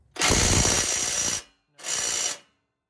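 A power wrench loosens the 13 mm downpipe bolts under the hood of a stock second-generation Cummins diesel pickup, fresh off a hot turbo. It makes two loud, close rattling bursts, a long one and then a shorter one, separated by silence.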